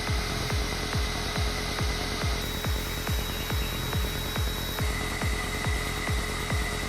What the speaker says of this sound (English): Now, I'll grind off all the unwanted details with my Dremel.